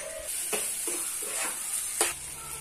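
Pasta sauce with tomato sauce sizzles steadily in a pan, and a spoon scrapes through it in several distinct strokes, close up and without speech.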